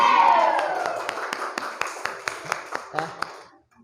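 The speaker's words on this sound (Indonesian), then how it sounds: "Oke, beri tepuk tangan." Scattered claps from a classroom of students, starting as a noisy cluster under a voice and thinning into a slow run of separate sharp claps before fading out.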